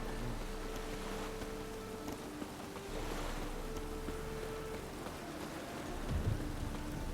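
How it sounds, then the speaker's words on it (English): Steady rain falling in the video game The Witcher 3, a continuous wash of drops on surfaces with a faint low rumble beneath and no talking. "Why is it always raining?"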